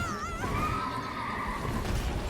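An enemy rider's horse in the video game Elden Ring lets out a loud, close neigh and whinny that wavers and trails off over a steady background rumble.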